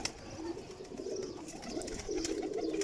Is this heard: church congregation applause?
no